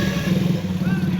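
A motorcycle engine idles and chugs steadily up close on a muddy, waterlogged road under construction, a low continuous rumble throughout.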